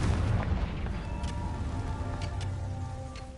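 Confringo explosive spell blast in a Hogwarts wizarding video game, a loud booming burst at the start with a rumbling tail, then a continuous low roar with scattered faint crackles and zaps.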